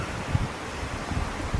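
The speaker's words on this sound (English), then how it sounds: "as soon as I get here, it starts getting more windy." Wind blows through a tree on a London street, a steady, gusty rush close to the microphone with a faint rustle of leaves and no voices.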